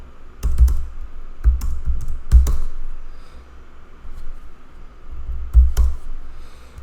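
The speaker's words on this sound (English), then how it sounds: "type that information into this column" Someone types data into a spreadsheet on a computer keyboard, heard close and loud as short bursts of sharp key clicks separated by brief pauses.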